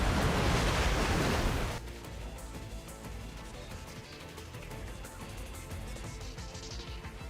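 Waves rush in across water in the video game NIKKE, a loud broadband surge for nearly two seconds before settling into a steady, softer wash of surf and wind that continues to the end.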